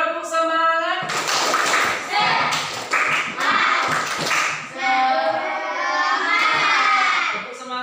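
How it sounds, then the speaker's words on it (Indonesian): Schoolchildren perform the 'tepuk semangat' spirit clap, a loud group routine of rhythmic claps and thumps with shouted chanting, with a teacher's voice leading at the start and end. "Sekarang tepuk semangat"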